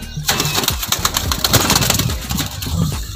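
Lakka fantail pigeons coo in a low, steady murmur close by, blending with a constant engine-like drone and scattered rustling in the background.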